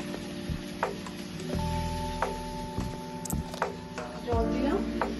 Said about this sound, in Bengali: চিকেনটা ভালো করে ভেজে নিয়েছি, ভাজা ভাজা হয়ে গেলে তারপর আমি জল দিয়ে দেবো।